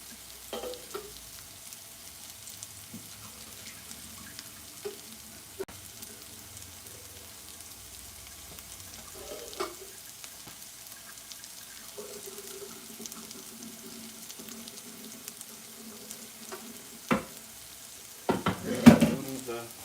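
Noodles stir-fried for homemade shrimp chow mein, soft sizzling and scattered scraping stirs at a moderate distance, growing busier and louder with clattering toward the end.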